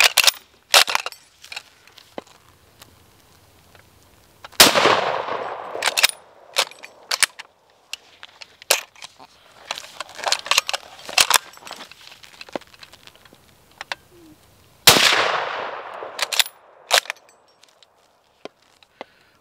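Ishapore 2A rifle firing at steel targets and water jugs: several sharp, loud shots spaced apart, each followed by a metallic ring or splash, with scattered clicks and handling noises between them.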